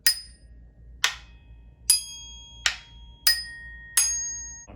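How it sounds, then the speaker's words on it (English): Orchestra bells are struck with a mallet six times at roughly one-second intervals, each strike a bright metallic ping that rings on with clear sustained tones before the next hit. "When you're playing bells, make sure that you bounce the mallet off of the bar."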